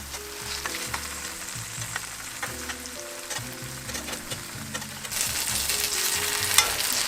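Oil sizzles steadily under food frying in a pan, a continuous close crackle with occasional clinks and scrapes, growing louder and brighter toward the end.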